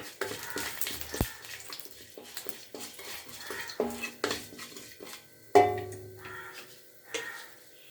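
Chana dal fries in a pan while a spoon stirs it, giving soft scraping and clinking metal taps against the pan at irregular intervals, fairly close and quiet.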